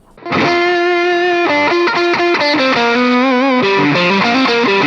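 A Kazuki Rough Stone electric guitar played with heavy distortion, sustained chords ringing thick and saturated, shifting through several changes in a loud, dense, continuous wall of sound with no talk.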